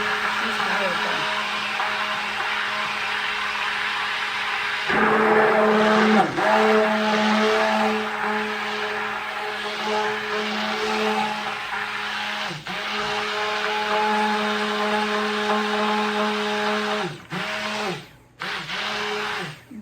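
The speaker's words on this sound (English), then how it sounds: "if you guys are looking for a powerful blender, this Nutribullet one is powerful." A Nutribullet blender runs while goat milk soap is being made, giving a steady, loud motor whir that shifts in pitch around the midpoint and stutters near the end as it slows and restarts.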